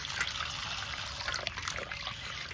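Water poured over lentils (dal) being soaked in a home kitchen, a steady close trickle and dribble running throughout.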